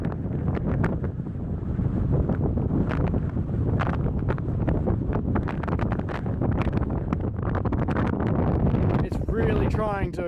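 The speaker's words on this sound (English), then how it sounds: "This is to give you an idea of how windy it is." Strong wind buffeting at a campsite near Donnelly River, a loud continuous rushing roar with gusty bursts battering the microphone, close and unbroken throughout.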